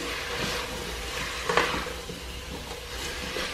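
Spiced soup base with coriander and parsley being stirred in a pot, a soft continuous bubbling hiss with scraping spoon movements and one brief clatter midway, close by with no talk.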